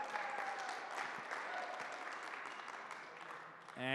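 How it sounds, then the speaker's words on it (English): Crowd applause fills a gym at a CrossFit-style Bay Games Grand Slam 2019 evening competition, a dense, steady wash of clapping throughout that swells again at the very end. "Give yourself a round of applause."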